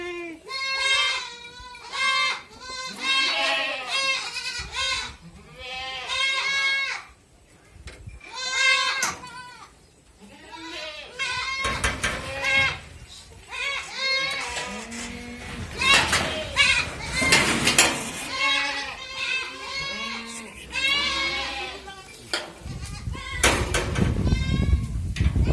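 Beetal goats bleat repeatedly in a goat pen, several animals calling in overlapping bursts near and far, with voices of people, including children, speaking between the calls.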